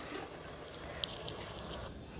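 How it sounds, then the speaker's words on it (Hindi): Water pours steadily into a cooking pot for Hyderabadi-style dry fruit rice, a soft, continuous rushing splash with no talking over it. "अब क्या करेंगे, इसमें पानी डालेंगे।"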